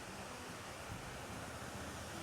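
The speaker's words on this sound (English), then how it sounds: "And then they have this really nice waterfall over here." A waterfall at a modern Thai temple gives a faint, steady, even rush of falling water with no breaks and no other distinct sounds.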